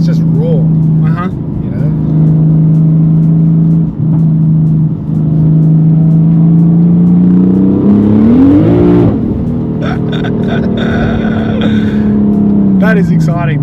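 A single-turbo 700 hp BMW F80 M3 drones at a steady pitch, then revs up in a sharp surge before dropping back, loud and close, with people talking over it.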